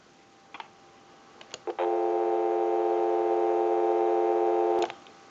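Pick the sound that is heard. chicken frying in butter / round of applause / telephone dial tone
telephone dial tone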